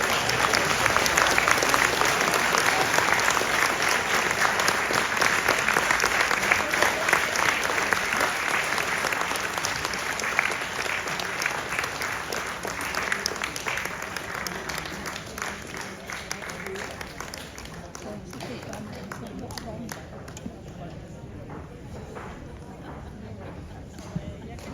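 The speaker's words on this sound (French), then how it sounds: "Alors vous pouvez les applaudir aussi" An audience at a choir concert applauds the choir members, sustained clapping that is strongest at first, then gradually thins and softens while staying continuous.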